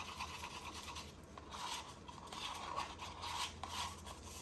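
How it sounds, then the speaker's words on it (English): A paddle stirrer scrapes and stirs a paint mixture around the sides of a container, giving a continuous soft rasping scrape with irregular strokes, close and fairly quiet, with no voices. "get it off the sides, scrape down your paddle, stirrer"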